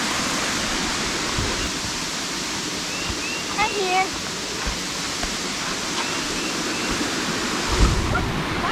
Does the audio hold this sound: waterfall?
yes